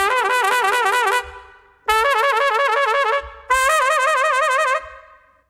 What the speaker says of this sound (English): trumpet players will often shake their instrument to fluctuate between two notes